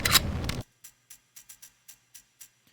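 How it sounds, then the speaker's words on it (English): A Halo battle rifle is picked up and cocked: one loud, dense rattling handling burst, followed by a run of about eight short, light mechanical ticks and clicks spaced evenly across the rest of the clip. "this is the sound of a picking up the battle rifle and like kind of cocking it."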